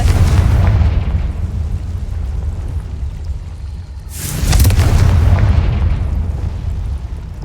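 Confringo, an explosive spell in Hogwarts Legacy, bursts with a booming blast that swells and fades, then a second louder explosion surges midway and rumbles on, no talking.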